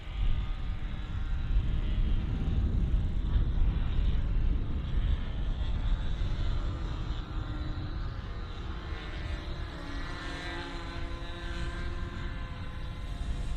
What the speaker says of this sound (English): I think Dave has actually started his biplane